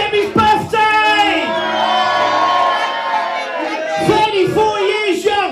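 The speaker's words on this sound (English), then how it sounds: "I want to hear a massive cheer for Debbie's birthday!" Nightclub crowd at the Nightingale cheering and whooping for a birthday, a loud sustained wall of voices with yells rising over it, surging again near the end.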